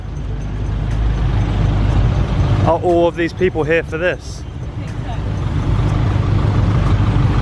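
Busy road traffic near a river boat landing in Ninh Binh, Vietnam, a steady broad rumble of vehicles throughout, with people talking briefly over it in the middle.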